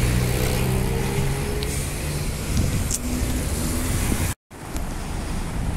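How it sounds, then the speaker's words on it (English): A bus drives past in a dedicated bus lane, a broad whooshing engine and tyre roar that swells and fades over a few seconds amid wind and traffic noise, with a brief dropout near the end and no talking. "Another Nis bus in the bus lane, 2176, so many 21s."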